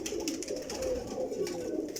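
Chimney-breed pigeons coo in soft, rolling low murmurs that overlap steadily for two seconds, close by, with faint higher chirps flickering above.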